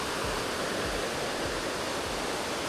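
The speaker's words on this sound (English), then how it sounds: "So the trail actually passed the second waterfall." A waterfall beside a hiking trail in Trinidad and Tobago pours with a constant, dense hiss and roar of falling water, close and loud throughout, with no voices.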